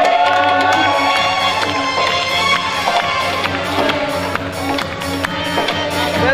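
A music night crowd claps and cheers loudly and continuously while music with a steady low beat plays underneath, with occasional whoops rising from the audience.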